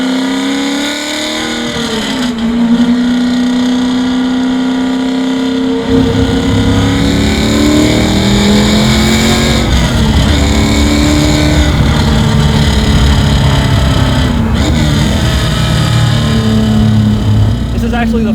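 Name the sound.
1968 Camaro muscle car engine accelerating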